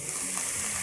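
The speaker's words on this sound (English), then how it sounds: "Just hearing the sizzle, that is ridiculous." Sprite is poured into a hot pan of food and sizzles loudly, a dense continuous hiss up close with no talking.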